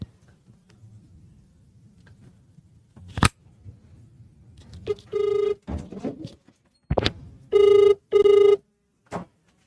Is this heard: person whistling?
no